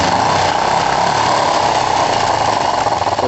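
Kawasaki ER5 motorcycle engine running loud and close with the throttle open, a steady, rough mechanical drone with a strong buzzing tone and no clear rise or fall in pitch.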